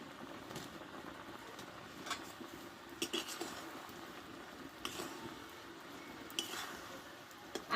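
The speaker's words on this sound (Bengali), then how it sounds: "লবণটা দিয়ে কিছুক্ষণ নাড়াচাড়া করে নিচ্ছি ভালোভাবে" Salt being stirred into mango chutney in a pan, giving soft scraping and stirring with occasional light clinks of a spoon against the pan, quiet and continuous.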